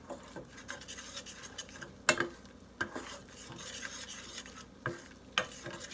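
A roux for beef bourguignon gravy sizzles softly in a pot while a utensil stirs and scrapes through it, with a few sharper knocks against the metal standing out over the quiet bubbling; no voices.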